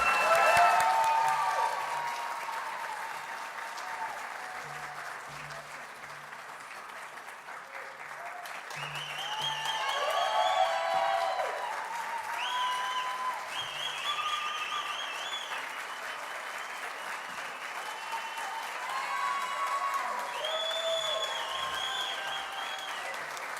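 An audience at the Hollenbeck PAL 17th Annual Awards Gala gives sustained applause that swells and ebbs over many seconds, with scattered cheers and whistles mixed into the clapping.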